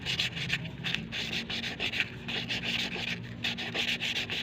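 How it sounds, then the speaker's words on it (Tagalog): Steady rhythmic rasping of sandpaper roughening a hard PVC pipe surface, close and continuous with quick back-and-forth strokes. "kumuha tayo ng liha. Yan, lihahin po natin yung pagaspangin natin"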